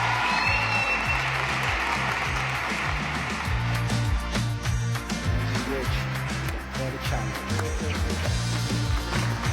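Studio audience applause on the Persian TV talent show Asre Jadid, a steady wash of clapping running the whole time beneath loud, rhythmic stage music.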